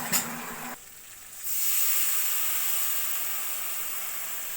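Ground mustard paste hitting a hot pan with tomato, salt and turmeric for a pomfret curry, a short clatter followed by a rising, steady sizzling hiss that holds and slowly eases.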